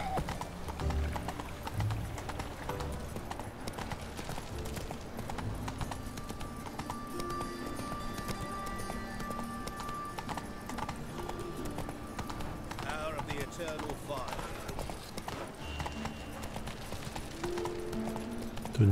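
Horse hooves gallop steadily in The Witcher 3 video game, a continuous rhythmic clip-clop under game music and a talking voice, with a brief whinny early on.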